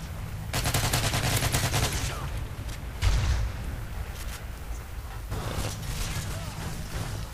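Bursts of rapid gunfire crackle in a Modern Warfare 3 match, automatic volleys in clusters with a brief heavier boom, under players' talk.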